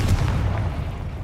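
Confringo blasting spell exploding in Hogwarts Legacy, a deep booming blast that hits hard at first and then rumbles and fades, alone with no talk.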